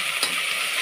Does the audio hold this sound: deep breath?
no